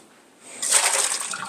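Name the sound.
draining tofu heated in salted water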